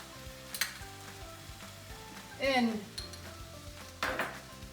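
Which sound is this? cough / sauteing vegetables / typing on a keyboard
sauteing vegetables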